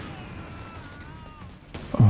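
Gunfire in the strategy video game Company of Heroes 3, a sharp loud burst near the end after a stretch of quieter game ambience and tonal effects.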